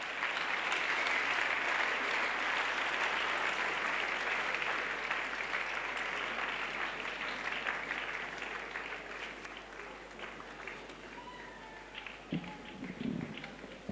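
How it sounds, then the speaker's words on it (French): A congregation applauds at an evangelization, salvation and healing crusade, producing dense, sustained clapping that is loud at first, gradually thins and fades, and then breaks into a few scattered claps near the end. "Yes, clap."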